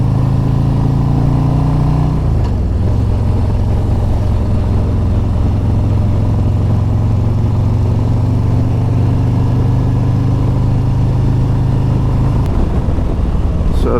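Harley-Davidson motorcycles, one with the 120th anniversary paint job on a Limited, ride at a 2023 demo event. The engine drone is loud and steady throughout, with a brief shift near the start and another near the end.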